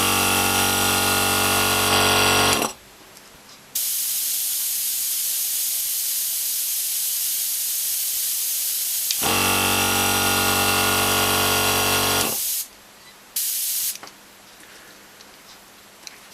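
A 0.2 airbrush running at 40 psi is fed by an Iwata Power Jet Plus handle-tank compressor. It gives a loud, steady airy hiss in long bursts, broken by pauses where a softer hiss continues.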